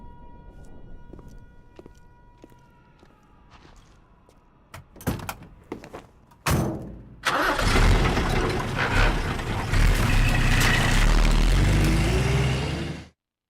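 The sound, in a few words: vehicle engine starting in video game Metal Gear Solid 3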